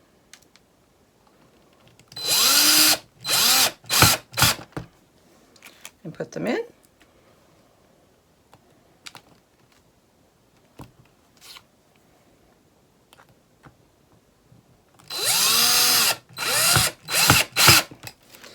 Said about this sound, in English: I'll just take my little drill